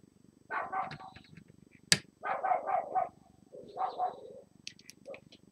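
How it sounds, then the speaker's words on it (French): Dogs barking outside around a housing estate, heard through an open window: several bursts of barking at moderate distance, some short and some drawn out, separated by gaps, with one sharp click-like hit between them. "5 minutes après avoir ouvert la fenêtre, j'ai des chiens qui aboient partout dans mon lotissement"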